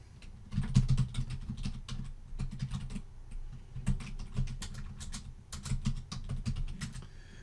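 Rapid keystrokes on a computer keyboard as a Linux SFTP login command is entered, with close, crisp clicks in uneven bursts and brief pauses over about seven seconds, no voices.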